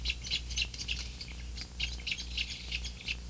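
A colony of wading birds in the Everglades bickers with repeated high squawks and chatter in irregular bursts, moderately distant over a low background rumble.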